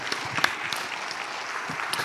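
An audience claps for speaker Nanang Suherman at an entrepreneurship event, a scattered, moderately quiet round of applause with individual sharp claps standing out.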